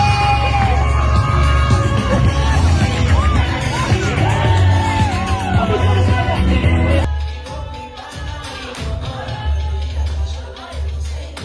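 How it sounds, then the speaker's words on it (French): Crowd cheering for the mayor at a town hall in Gabon, loud whoops, yells and shouts layered over a throbbing bass-heavy background, dropping back after about seven seconds to scattered shouts and voices. "Sous vos applaudissements, s'il vous plaît."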